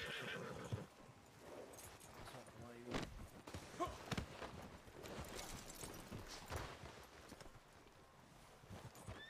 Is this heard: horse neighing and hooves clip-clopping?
yes